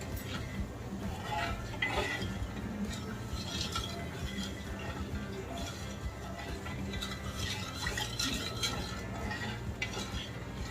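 A spoon stirs sugar syrup spiced with nutmeg and cardamom powder in a pan for rava ladoo, giving continuous soft scraping and light metallic clinks at a low, steady level.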